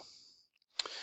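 Mouse clicks on a computer while working in a desk-quoting application, two or three quick, close taps near the end following soft hiss and near silence.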